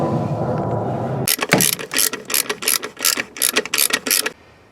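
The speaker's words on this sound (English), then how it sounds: "So I'm gonna tighten these at 25 foot-pounds first, then I'm gonna do the outer ones." A ratchet wrench tightening EGR delete plate bolts on a third-generation Camaro/Firebird TPI engine, a quick run of about a dozen crisp close clicking strokes after a brief hum, with no talking.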